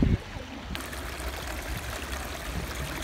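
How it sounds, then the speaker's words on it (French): Boiling water bubbling at a geothermal rock formation in New Zealand, a steady low churning and trickling wash that runs continuously at close range after a brief loud bump at the start. "On voit de l'eau qui bouille là."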